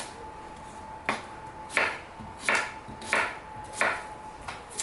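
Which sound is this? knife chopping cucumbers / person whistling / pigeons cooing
knife chopping cucumbers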